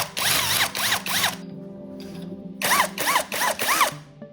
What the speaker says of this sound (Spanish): Y perforamos con una broca de 1/4.